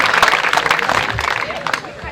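Applause from children and teachers at a school gathering in the Parasia Range of West Chhindwara, a dense burst of clapping mixed with chatter and voices throughout.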